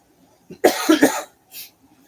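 A few sharp coughs in a quick cluster, close and fairly loud, followed by a short breathy sniff, with no talking over them.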